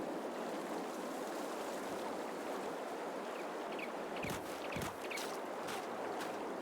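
A swim through water in the video game Farming Simulator 22 sounds like a faint, continuous wash, with a few soft splashes toward the end.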